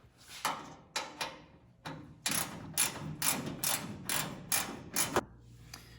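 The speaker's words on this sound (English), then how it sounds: "the 4mm wrench, you're going to want to tighten all 4 of the bolts in the front faceplate" A 4mm wrench tightens the front faceplate bolts with a series of about a dozen sharp metallic ratcheting clicks and clacks, close and fairly quiet, coming in an uneven rhythm with short pauses, and no speech.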